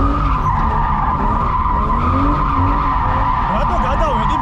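A car drifting with its tires skidding and squealing in a sustained, loud screech over engine roar, the pitch wavering as the slide continues close by.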